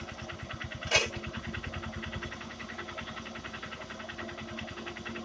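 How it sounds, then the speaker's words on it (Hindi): A 2019 Honda Shine SP motorcycle engine idles after a carburetor adjustment, with a fast, even putter of regular pulses, a single sharp click near the start, and no talking. "एक बार इंजन के साउंड सुन लीजिए जो रिदिम सुन लीजिए"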